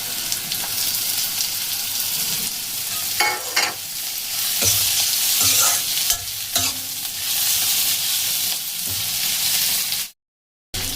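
Grated ginger and green chilli stir-frying in a pan for a pasta dish: a steady, fairly loud sizzle with scraping stirs throughout, then a brief cut to silence near the end.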